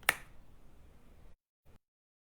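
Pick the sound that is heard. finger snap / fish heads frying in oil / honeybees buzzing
finger snap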